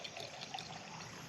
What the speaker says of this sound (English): Then we're just going to take plain old apple juice here. Get your store brand apple juice. Get your favorite apple juice. Pour this jar